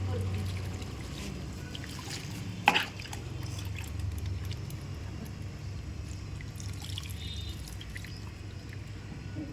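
Water drips and trickles while a puppy is bathed, soft and close over a low steady background hum, with one sharp splash or knock partway through.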